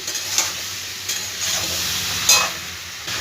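Mixed vegetables stirred in a hot pan, a continuous sizzle broken by a few scraping strokes of the spoon at a relaxed pace.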